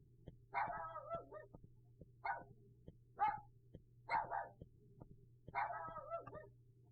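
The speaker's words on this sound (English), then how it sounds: "Wait, if it's barking, that means it's still alive." A dog in the horror video game Rule of Rose barks in five separate bursts across the clip, moderately near and clear over a low steady background hum, with no talking.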